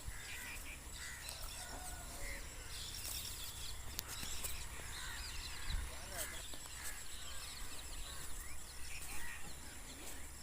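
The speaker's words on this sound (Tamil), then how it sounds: "இந்த காக்கா வேறு தின்னுட்டு இருக்குது கடலப்பருப்பு" A crow caws on a farm field where groundnuts are being sown by tractor; scattered calls sound over steady background noise, with someone talking through much of it.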